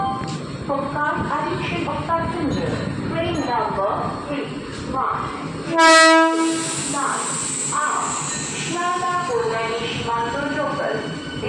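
The Down Krishnanagar AC local electric train stands and rolls at Khardah station, its carriages rumbling steadily while a loud horn blasts briefly midway, and people talk on the busy platform.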